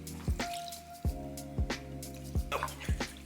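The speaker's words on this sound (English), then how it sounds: "I'm gonna add about half a cup of water." Water is poured into a tahini yogurt ranch dressing, giving a series of close, wet drips and squishy plops at a slow, uneven rhythm.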